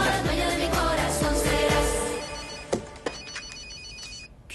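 A telephone rings with repeated bright electronic trills, loud and close at first, then fading under other sounds.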